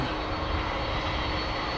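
Steady, continuous roar of an airplane engine from a 28-year-old aircraft at DFW Airport, a broadband rumble holding level and fairly loud throughout, with no speech.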